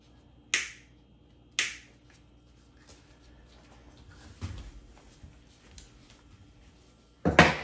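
Pruning shears cutting excess Schefflera stems during air layering: two sharp snips in quick succession, then soft handling noises and a third loud snip at the end, close in a quiet room.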